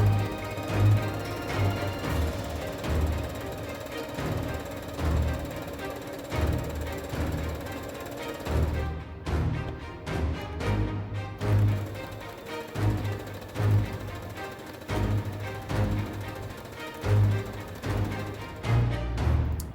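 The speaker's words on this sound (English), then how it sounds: "and then I can keep sewing" A sewing machine stitches strips of quilt fabric for a 4th of July flag block, running in steady rapid bursts of close mechanical chatter with short pauses between.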